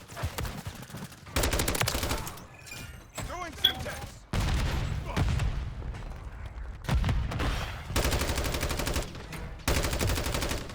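Rapid automatic gunfire from a Lachmann 556 rifle in Call of Duty: Modern Warfare III multiplayer, several loud sustained bursts separated by short pauses, with game effects and a voice in between.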